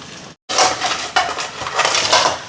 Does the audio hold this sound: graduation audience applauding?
no